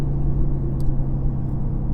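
A loaded firewood delivery truck's exhaust brake holds a steady, loud, low droning rumble with a constant hum throughout, close and continuous, with no talk over it.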